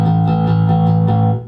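A bass guitar string is played open without palm muting, ringing full and sustained across a few plucked notes, close and loud, with no voice over it.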